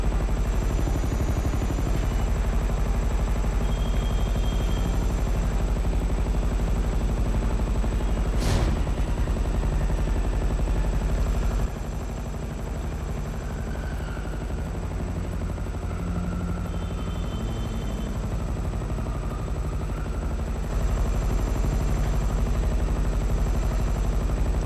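A helicopter flies in GTA 5, its rotor drone loud and continuous with a steady high whine throughout, briefly cut by a sharp crack midway.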